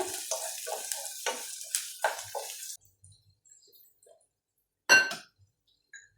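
Ingredients for a spicy mutton drumstick curry are stirred in a frying pan, giving scraping, clinking strokes over a faint sizzle, then a lull and one sharp clink near the end.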